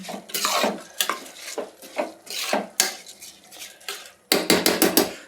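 Rice tossed with masala in a pan for hotel-style pulao, a spoon scraping and clattering against the metal in repeated close, busy strokes, with only faint frying underneath and no talk.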